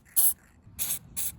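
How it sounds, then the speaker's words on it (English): Three short bursts of dry lubricant spray hit the hatch lift support mounts of a BMW E46 Touring, crisp close hissing puffs separated by brief pauses. "I like to add a little bit of dry lubricant to the mounting points."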